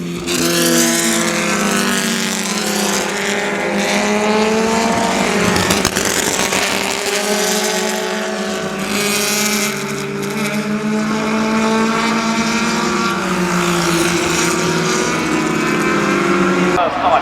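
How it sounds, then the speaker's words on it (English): Several loud 1960s Formula Junior race cars snarl and rev together at Oulton Park, their pitch rising and falling as they accelerate nearby, with a voice talking over the roar throughout. "it is the Formula Juniors 1960s era. These sound pretty angry."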